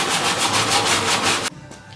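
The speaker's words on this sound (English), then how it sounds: "these flexible sanding blocks" Body filler is rubbed down with a flexible sanding block on a Triumph Herald Coupe, giving a loud, steady scratchy rasp of rapid back-and-forth strokes that stops abruptly near the end.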